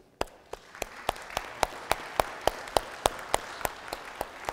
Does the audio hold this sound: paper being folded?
no